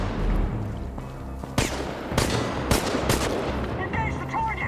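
Video game gunfire in Chernobylite, several sharp separate shots and short bursts spread across a few seconds over a low rumbling game backdrop.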